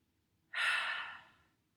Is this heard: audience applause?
no